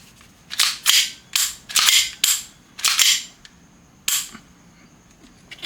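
A VFC SIG Sauer P320 M17 airsoft pistol firing seven sharp, close cracks, several in a quick uneven burst, then a short pause before the final shot, with no voices.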